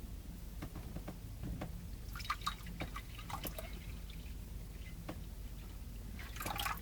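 A thirsty rabbit drinks water, giving small, scattered drips and wet lapping sounds over a steady low background hum, with a few brighter splashy moments.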